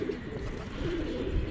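Rajshahi Giribaz pigeons coo steadily on a pigeon farm, soft overlapping low calls rising and falling without pause, with a murmur of background noise and no speech.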